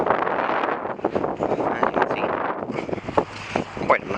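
Outdoors during snow shoveling, gusting wind buffets the microphone in a constant rough rumble. A few scraping sounds come through, and a voice speaks briefly.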